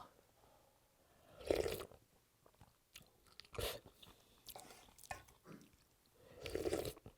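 Ramen mixed with ice cream being eaten up close, with a few loud, separated bursts of chewing and slurping mouth noise spread across a quiet background and no talking.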